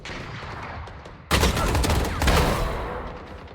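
Gunfire in a tactical shooter game: a dense burst of rapid shots breaks in loudly after a quieter stretch of game ambience, then a second flurry follows and fades into lingering echoes.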